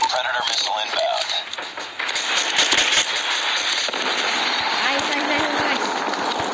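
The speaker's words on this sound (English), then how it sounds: "Predator missile inbound." Predator missile strike explosions rumble and crackle continuously in Call of Duty Mobile, a dense wash of blasts and game effects while players talk over it.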